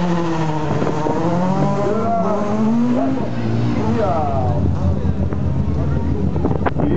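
A race car climbs a hill-climb course, its engine revving through rising and falling gear pulls at a distance under strong wind noise, while a commentator talks over it the whole time.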